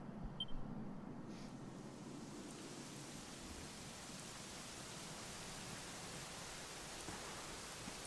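Steady rain in the video game Dragon Quest XI pours down continuously, a dense even hiss with a soft low rumble beneath, no voices, unchanging throughout.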